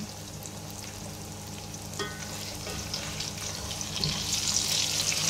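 Pork intestine fries in a pan with a steady, close sizzle that swells toward the end, while a few scraping stirs cut through the crackle.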